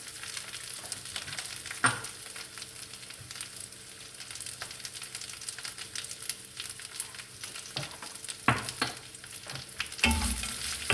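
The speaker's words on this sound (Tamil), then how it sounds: "இதில் எல்லாமே ஆட் பண்ணி வச்சுட்டு நல்லா கிறிஸ்பியாக ஃப்ரை ஆகணும்" Crushed garlic and pirandai fry crisp in a pan with salt, a quiet continuous sizzle with occasional sharp clicks of stirring and a louder scrape near the end, no voices.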